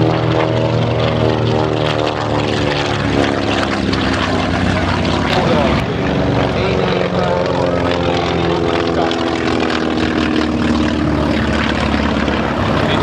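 Vintage WWII torpedo bombers and a dive bomber fly at a beach airshow. Their radial propeller engines make a loud, continuous, droning roar with layered harmonic tones that hold steady for the whole stretch, and voices are faintly mixed in.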